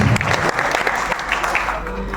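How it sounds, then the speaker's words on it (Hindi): Audience applause fills a poetry gathering, a mushaira and kavi sammelan, with dense steady clapping at full strength throughout, loud and close, with no talking over it. "एक बार जोरदार तालियां बजा दीजिए।"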